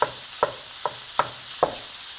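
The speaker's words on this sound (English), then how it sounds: "add the meat. With the flame on high, you're going to break it with your wooden spoon." Ground meat sizzles over a high flame while a wooden spoon breaks it up, a steady frying hiss punctuated by five evenly spaced taps and scrapes.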